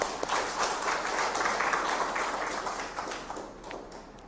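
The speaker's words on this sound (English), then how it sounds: "Let's give them a big round of applause." Audience clapping at a book release event for Advent of Christianity in Nagaland, a moderate burst of applause with some distinct individual claps that gradually thins and fades toward the end.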